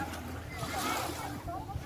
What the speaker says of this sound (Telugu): ఆ వాటర్ వాయిస్ ఇలా అలలు వచ్చే సౌండ్ కూడా మంచిగా వినిపిస్తుంది